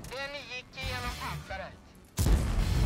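Loud burst of video-game gunfire breaks in near the end, following a stretch of someone talking; the shooting rumbles on as a heavy, dense roar.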